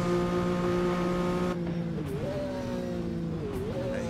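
Engines of 1960s touring cars whine in an Assetto Corsa race, a loud sustained tonal drone with shifting pitch as one car lifts and another revs alongside, close and continuous.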